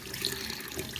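Water runs steadily from a tap into a sink during washing, a continuous close splashing rush.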